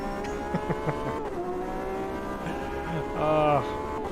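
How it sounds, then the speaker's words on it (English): A Porsche RSR race car in Automobilista 2 gives a continuous harmonic engine note that rises, dips and shifts pitch, with a brief louder surge late on. "RSR. I already hear it's ready to unleash its fury of sound on us."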